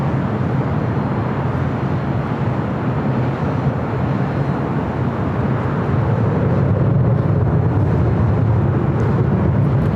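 Jet airliner taking off from runway 24 right at LAX, a steady loud roar that builds slightly toward the end, heard from a distance with no talking.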